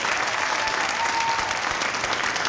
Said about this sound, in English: So let's give him a nice round of applause.